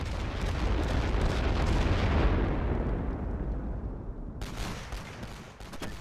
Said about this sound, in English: They are going for another rolling barrage.